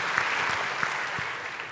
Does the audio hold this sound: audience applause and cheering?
yes